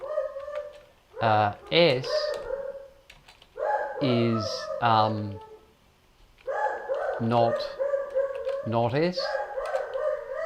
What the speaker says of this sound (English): I apologise for my dog going ballistic in the background.